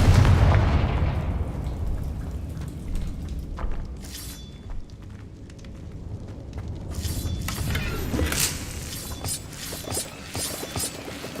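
A Confringo fire spell explodes in Hogwarts Legacy, a heavy booming blast opening loud and then decaying into crackling, shattering bursts and further impacts over several seconds.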